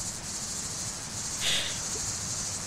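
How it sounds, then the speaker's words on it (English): Periodical cicadas in a North Carolina woodland chorusing in dense, continuous waves, a steady high hiss that swells briefly near the middle and fills the whole stretch without voices. "the bug chorus is lawnmower loud"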